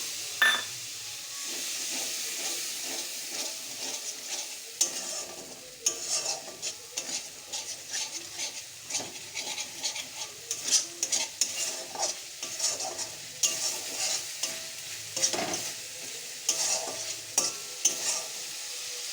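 A spice mixture fries in oil in a pan while a utensil stirs and scrapes it in an irregular rhythm, with a steady sizzle underneath. The sound is close and moderately loud, and no one speaks.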